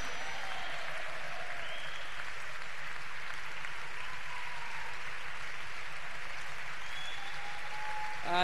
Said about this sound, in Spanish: Yo creo que ese aplauso puede ser mucho mejor.